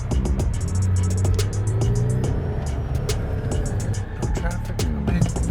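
A McLaren 720S with 710 horsepower and rear-wheel drive accelerates hard in track mode, its engine a steady, loud roar with rising pitch sweeps and gear changes, and a brief burst near the end.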